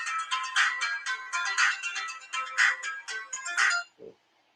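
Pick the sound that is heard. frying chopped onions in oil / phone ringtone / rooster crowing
phone ringtone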